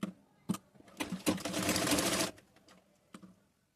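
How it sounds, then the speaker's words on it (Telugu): A sewing machine stitches the side edges of a blouse with a loose seam: a few quick clicks, then one close whirring run of about a second, then more scattered clicks as it stops. "సైడ్ ఎడ్జెస్ ఒక లూజ్ కుట్టేసుకోండి క్రాస్గా"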